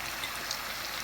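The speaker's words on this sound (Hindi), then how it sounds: "बस इनको भी हमने इसी तरह ना गोल्डन क्रिस्पी होने तक फ्राई करना है।" Aloo suji potato bites, made from semolina and potato, frying in hot oil until golden and crispy, a steady close crackling sizzle with no voices.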